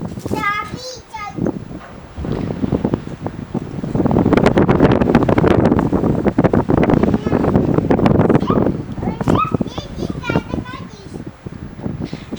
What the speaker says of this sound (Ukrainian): Сильний вітер